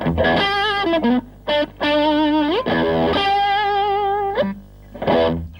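Distorted electric guitar with sweeping wah and whammy-bar pitch bends, sustained notes sliding up and down, loud and alone.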